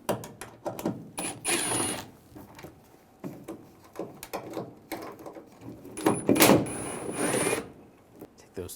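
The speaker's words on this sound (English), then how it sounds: "We're going to take these two screws out, use a T25 socket." A T25 socket backing out screws on a 2011-2018 Ram 1500 tail light assembly, giving short bursts of ratcheting and mechanical whirring with clicks between them, close and moderately loud.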